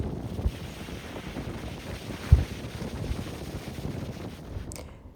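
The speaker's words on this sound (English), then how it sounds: "Here is the bow of the ship opened up as we are sailing into Rio" Wind buffeting across the open bow of a cruise ship sailing into Rio, a constant low rushing roar with faint sea wash and a couple of brief knocks, no talking.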